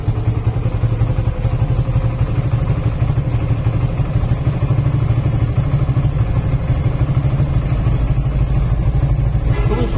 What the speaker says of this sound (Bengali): এই বাইকটা আপনি যদি সাউন্ড দেখায়, তো সাউন্ডটা আপনি দেখতে পারেন